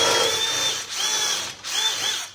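A power drill enlarges a hole during a boat trailer repair, whining loudly and close in three bursts separated by brief dips as the bit bites and the trigger eases.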